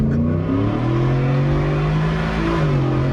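A Roush Ford Lightning pickup truck does a burnout and smokes its tires. The engine roars loud and close with a steady high-rev drone that wavers slightly in pitch for the whole stretch.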